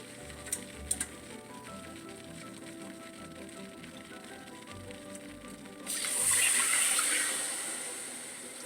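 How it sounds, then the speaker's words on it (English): Two cups of milk poured into a bowl of flour for a roly-poly pudding: after a quiet stretch, a steady, close liquid pour swells up, lasts about two seconds and then tapers off. "I'm going to add 2 cups of milk"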